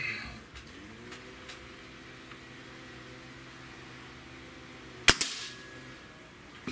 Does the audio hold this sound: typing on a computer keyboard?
no